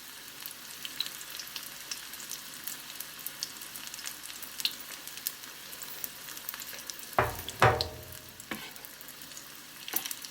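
Potato balls coated in chickpea-flour batter fry in oil over lowered heat, giving a soft, steady crackling sizzle broken by a few louder pops and clatters near the end, with no voices.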